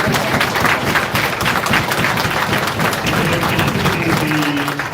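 Convention audience at a horror film panel for Terrifier applauding steadily and loudly, a dense continuous wash of clapping filling the whole stretch without letup.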